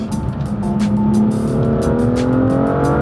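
A BMW M55 engine revs loudly and continuously, its pitch climbing through gear-like rises with a throaty, growling tone and no voices.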